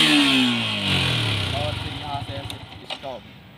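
A Yamaha R15 motorcycle, 2022 Monster edition, is electric-started and runs with a close, steady engine drone that settles after a falling starter whine, while someone talks over it.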